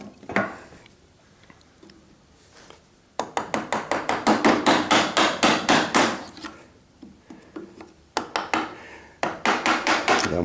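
A chisel struck hard with a mallet chops a mortise in wood held on a mortise board, sounding as a rapid run of loud, sharp, close knocks in bursts, with quieter taps between the runs.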